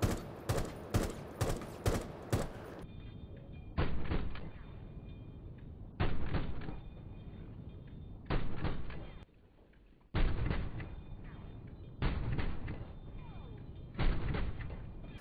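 Automatic gunfire from an L85A2 rifle in Rainbow Six Siege, loud close bursts: a quick string of separate shots, then several sustained full-auto bursts broken by brief pauses.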